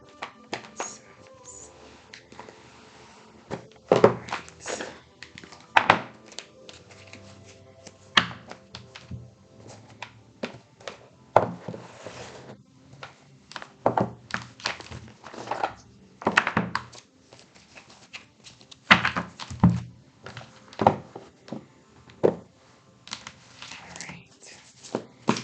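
Graffiti oracle cards being handled and shuffled, with irregular bursts of riffling, flicking and tapping close by, separated by brief quiet gaps over a faint background.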